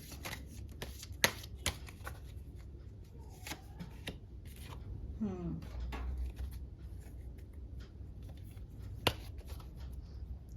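Tarot cards are shuffled in soft, quiet bursts of riffling and sliding, with a few sharp taps and card snaps scattered through, while a faint voice murmurs in the background.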